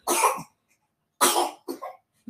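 A young boy gives a few close, sharp coughs: one longer burst, a pause, then two quicker coughs in a row, with silence in between.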